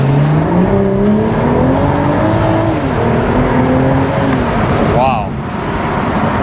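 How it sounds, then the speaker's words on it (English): A BMW accelerating hard in traffic, its engine note climbing steadily through the gears, loud and close from inside the cabin, with a brief shift break near the end and voices talking over it. "Screw the bumps, we're just gonna do another acceleration."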